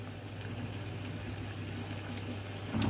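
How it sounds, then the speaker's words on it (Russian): Tomato sauce with lavash simmers gently in a pan, a soft steady bubbling hiss that stays even and fairly quiet, with a brief louder clatter at the very end and no talk. "Вот так вот чуточку потушим. Где-то минут 5 тушим это все."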